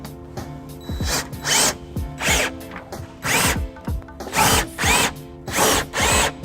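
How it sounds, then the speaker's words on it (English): An electric drill with a socket whirs in about eight short, evenly spaced bursts tightening bolts on a 2018 BMW X1 trailer hitch install, each spinning up and cutting off, close by and fairly loud. "take the electric drill socket and tighten."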